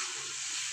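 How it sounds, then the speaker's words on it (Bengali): Chicken masala being stirred and fried in a wok, a steady close sizzle with faint scraping, brief and even, ending in a single sharper scrape. "ভালোভাবে এটাকে আমি নাড়াচাড়া করতে থাকবো।"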